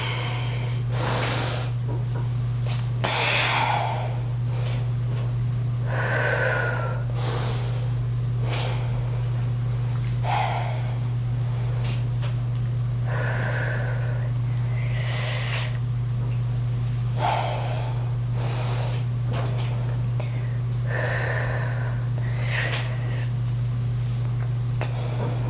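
A person breathes out forcefully and repeatedly during a Pilates workout with light weights, about ten loud breathy exhales in a steady rhythm, each a short broadband rush of air over a constant low electrical hum.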